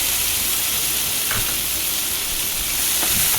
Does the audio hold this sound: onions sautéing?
yes